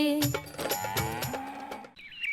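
A dairy cow moos loudly and close by in a series of drawn-out, rising and falling calls, with no talking.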